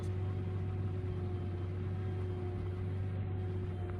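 Tractor engine running steady while pulling a seed drill at planting time in Arbon, a constant low mechanical hum and drone with no clear rise in pitch.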